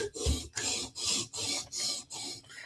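A custom Para 3 knife blade is drawn across an abrasive stone on a TSProf Kadet guided sharpener at a 17-degree angle, making seven steady, close rasping strokes in an even rhythm.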